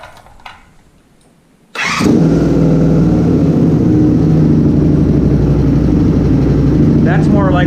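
A Honda VF500F motorcycle engine with its air filter removed fires up after a quiet moment and settles into a loud, steady idle that runs on close by.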